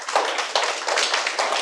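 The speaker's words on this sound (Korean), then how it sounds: "박수로 환영해 주시면 감사하겠습니다" A small classroom group claps briefly to welcome a student receiving an award, a soft, thin patter of hands with uneven bursts, fairly quiet and close.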